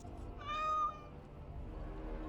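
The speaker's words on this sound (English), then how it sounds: "You seem rather attached to that cat, Anders." Sir Pounce-a-Lot, a cat in Dragon Age: Awakening, gives a single clear, drawn-out meow lasting about half a second over a low murmuring room background.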